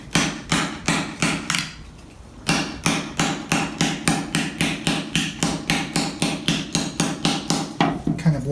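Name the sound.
hammer softly stretching steel Sabaton armor tip on wood stump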